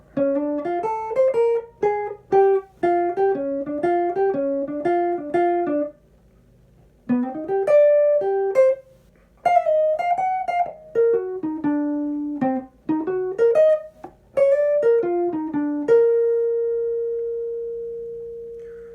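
A melodic guitar solo: quick plucked notes run in fast phrases with brief pauses, ending on one long sustained tone; clean, bright and up close.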